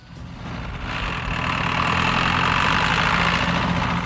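A tractor engine runs steadily and grows louder as the machine climbs a one-foot ramp. It makes a continuous heavy mechanical drone with no speech.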